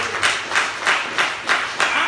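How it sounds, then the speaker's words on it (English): Six sharp, evenly spaced hand claps ring out in a steady rhythm, loud and close. "Give the Lord a hand clap."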